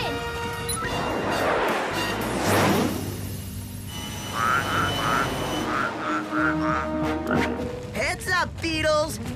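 Deep, guttural cane toad croaks repeat in short bursts amid splashy, cartoonish effects in an animated show, with lively voices talking over parts of the clip.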